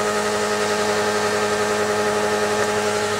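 A car engine runs with apple juice in place of engine oil, holding a steady, even idle drone with a constant hum throughout and no voices.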